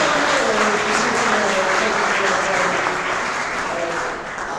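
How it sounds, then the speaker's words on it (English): A round of applause from the audience at a public meeting in Skaneateles, dense and steady crowd clapping that fills the room and fades slightly toward the end. "How about a round of applause for Liz and Dave and Julie and Tony"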